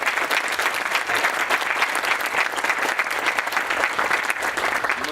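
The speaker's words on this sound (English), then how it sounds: "Give my board a round of applause." Sustained applause from an audience at a university groundbreaking ceremony, dense steady clapping throughout, fairly close and loud with no talk over it.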